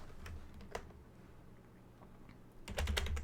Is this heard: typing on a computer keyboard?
yes